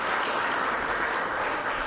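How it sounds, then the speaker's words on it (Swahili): Audience at a team luncheon giving a round of applause, a dense, even wash of many hands clapping throughout the short stretch. "Ladies and gentlemen, tupatieni makofi kwa mara nyingine."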